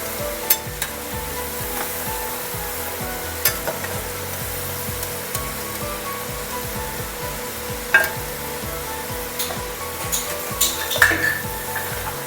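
Potato french fries fry in very hot oil, giving a continuous close sizzle and crackle. Scattered metallic clinks and taps from a utensil against the pan punctuate the sizzle, and no one speaks.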